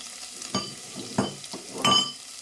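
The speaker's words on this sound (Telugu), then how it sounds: "ఆవాలు చిట్టుపట్లు ఆడే లోపల దంచి పెట్టుకున్న తెల్లగడ్డలు వేసేద్దాము." Mustard seeds and crushed garlic frying in hot oil in a pan, with a soft sizzle broken by a few distinct stirring scrapes and pops close by.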